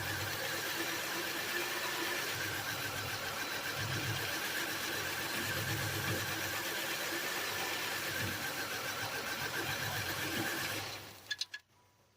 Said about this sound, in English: let me go turn the engine off